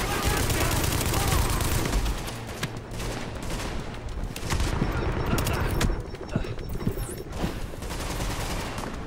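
Pistol gunfire from the video game Tom Clancy's The Division, sharp dense shots in rapid bursts under a steady bed of game noise, with voices talking at times.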